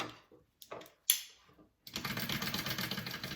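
A sewing machine starts stitching a bag seam at a 3/8 inch seam allowance, a steady rapid whir of needle strokes running loud and continuous after a few scattered handling clicks and taps.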